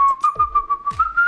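A short, bright whistled melody, several quick notes in a bouncy rhythm, close and clear, with soft thumps underneath.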